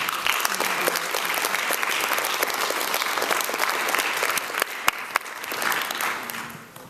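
An audience at an MLK 2013 music and poetry event breaks into sustained applause, dense clapping that holds steady for several seconds before tapering off at the end.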